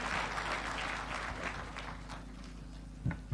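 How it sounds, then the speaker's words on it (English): A conference audience claps to welcome Kenya's President to the stage, a dense, steady wash of applause from a large crowd that holds for a few seconds before thinning out, with a couple of louder claps near the end. "Why don't we welcome him with a clap?"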